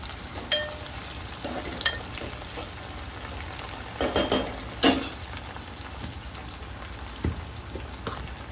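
Curry leaves sizzle and crackle in hot oil in a pan for a chicken curry, with steady frying hiss and occasional scraping clicks from stirring, close up and without talk.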